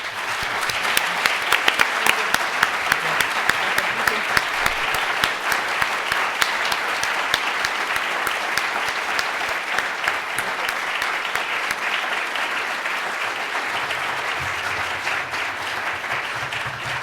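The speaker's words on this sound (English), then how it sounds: "And let's give them a big round of applause." An audience at an election forum for state senate candidates gives a long, steady round of applause, full and even throughout with no talk over it.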